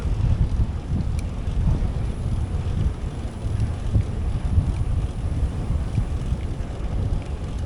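Strong wind buffeting the microphone, a constant low roar with gusty surges throughout and no voices.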